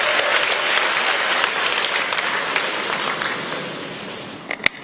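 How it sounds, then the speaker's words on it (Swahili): Sustained audience applause at a SADC ministers' meeting on employment, steady dense clapping filling the whole span before tapering slightly, with a sharp knock near the end. "piga makofi mengi na vigelegele kwake tafadhali"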